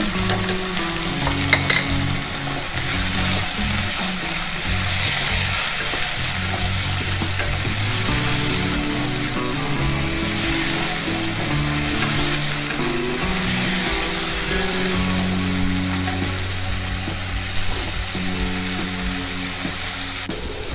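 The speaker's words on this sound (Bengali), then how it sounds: "এবং মটরশুঁটি তিনটে উপকরণ একসঙ্গে ভেজে নেব।" Capsicum, carrots and peas stir-fried together in oil with a little salt for homemade egg chowmein give a steady, dense sizzle throughout, with stirring scrapes and a low tonal hum underneath.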